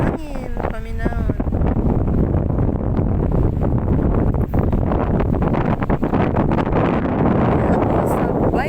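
Strong sea wind at a beach in Dumanjug roars steadily across the microphone in continuous buffeting gusts, with a brief voice near the start.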